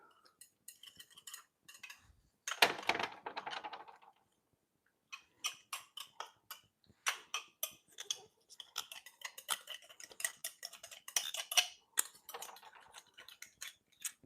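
Pismo clam meat scraped from the shell with a utensil, a series of close, dry clicking and scratching strokes with a louder rasping burst partway through, irregular and continuing without talk.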